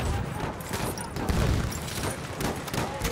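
Dense, continuous gunfire and explosions in the video game Battlefield 1, with a loud, overlapping barrage of shots and booms filling the whole stretch.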